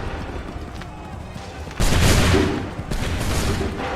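A volley of musket fire from soldiers in Assassin's Creed III bursts out loud and sustained, with a second crackling wave following close behind, over a murmur of voices.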